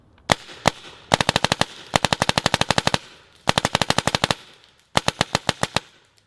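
An Angel LED SE paintball marker firing rapid bursts, sharp close pops in quick strings of about ten to fifteen shots separated by short pauses, loud and alone with no talking.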